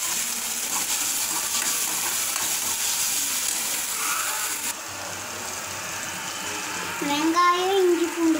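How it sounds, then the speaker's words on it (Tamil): Ginger garlic paste sautés in a pan for egg thokku, giving a steady close sizzle with stirring scrapes that softens midway, then a voice rises briefly near the end. "நம்ம இப்போ இஞ்சி பூண்டு பேஸ்ட் போட்டு வதக்கிடலாம்."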